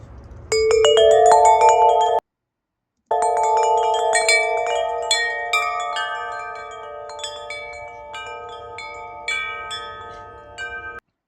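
An alto wind chime rings with clear, overlapping metallic tones that sustain and fade, breaks off into a short silence, then resumes with a slower scattering of struck notes.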